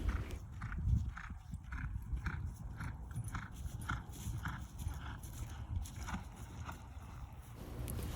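A horse trots in a left-handed circle in a warm-up area, its hooves clip-clopping in a steady, regular rhythm, fairly faint and distant over outdoor background noise.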